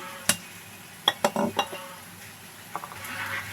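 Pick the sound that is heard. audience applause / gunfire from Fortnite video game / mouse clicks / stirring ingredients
stirring ingredients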